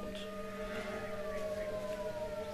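In the video game L.A. Noire, a distant siren drones on under a low city hum, with a steady wailing tone that slowly falls in pitch over a few seconds, and no voices are heard.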